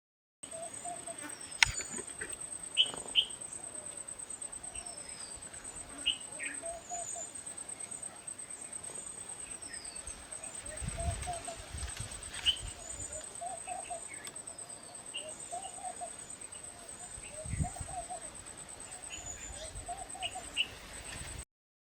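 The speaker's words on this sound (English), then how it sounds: "The forest was magical and we spotted a lot of birds in the evening hour." Birds call through a forest in the evening in Tadoba, with scattered chirps and short repeated calls rising over a steady insect drone and faint low rustles.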